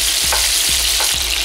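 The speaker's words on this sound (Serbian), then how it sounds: "Dok se meso prži" Chicken meat browns in a hot pan for a sweet cabbage dish: a loud, continuous sizzle broken by three scraping stirs about half a second apart.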